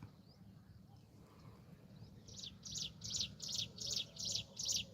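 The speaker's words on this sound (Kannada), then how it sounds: "ಪಕ್ಷಿ ಸೌಂಡ್ ಕೇಳದೆ ಒಂದು ಖುಷಿ" Birds chirp outdoors in a village, starting faint, then a bird repeats a sharp call about eight times in an even rhythm over a low background hum.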